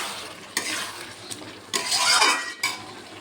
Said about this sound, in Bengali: টমেটোটাও গলে গেছে, ভালো করে কষিয়ে নেব। চিংড়ি মাছগুলোও দিয়ে দিচ্ছি।